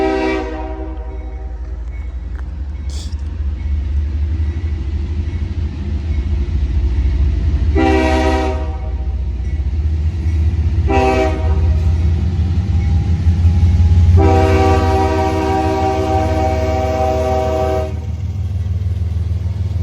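A CSX freight train rolls through a grade crossing at Chocowinity, North Carolina, its heavy low rumble steady throughout, broken by four close, loud horn blasts, the last one long.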